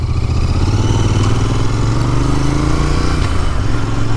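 Royal Enfield Interceptor Chrome Mk 2 motorcycle engine running close by, a loud steady throbbing twin-cylinder idle with mechanical clatter, continuous throughout with no talking.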